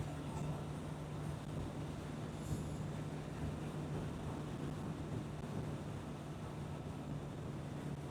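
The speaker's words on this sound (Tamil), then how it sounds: "செம்ம காத்தடிக்குது." Strong wind buffets the microphone on a Kawasaki Z900 during a hot-weather Sunday ride in Andhra Pradesh. The roar is dense and unbroken, with a low engine drone running steadily underneath.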